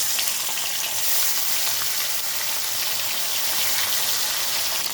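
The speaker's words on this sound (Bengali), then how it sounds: "খয়রা মাছটা আমি ভেজে নেব এখানে গ্যাসে কড়াই বসিয়ে তেল দিয়ে দিয়েছি তেল গরম হয়ে গেছে মাছগুলো আমি ভেজে নেব" Khoira fish frying in hot oil in a wok on a gas stove give a loud, dense, unbroken sizzle and crackle at close range with a faint low hum underneath.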